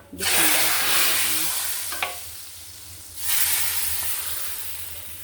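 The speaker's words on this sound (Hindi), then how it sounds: "इसको ना मैं तड़का लाजमी लगाती हूँ" Loud hissing sizzle of cumin seeds hitting hot oil for tempering, fading and then flaring up again, with a brief clink of a utensil.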